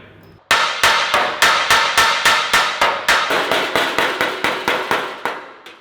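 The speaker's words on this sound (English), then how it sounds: "I just went over it with a hammer and dolly" Rapid, evenly spaced hammer blows ring out as a hammer and dolly work a car's sheet-metal boot floor panel, about twenty sharp metallic strikes in steady rhythm, close and loud.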